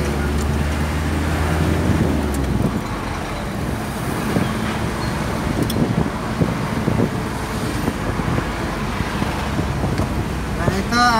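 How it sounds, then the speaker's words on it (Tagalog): Road traffic on the drive from Las Piñas to Manila rumbles continuously, with engine drone, passing vehicles and wind buffeting the microphone, while a voice talks over it. "Ito na ang kahabaan ng traffic."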